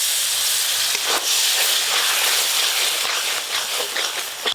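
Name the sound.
water added to frying spice paste, sizzling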